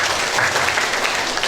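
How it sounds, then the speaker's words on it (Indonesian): Applause at an anniversary worship service for Mardi Waluyo hospital, a steady wash of clapping from a gathered congregation filling the short moment evenly at moderate loudness. "Tepuk tangan untuk Marty Waluyo."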